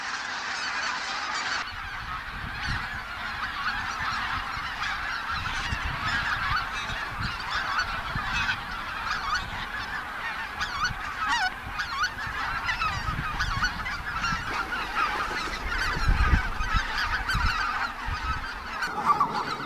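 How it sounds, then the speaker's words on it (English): A flock of bean geese returning from rice paddies honks continuously, many overlapping nasal calls at moderate distance over a steady outdoor background, with no talk. "This flock of geese is returning from the rice paddies."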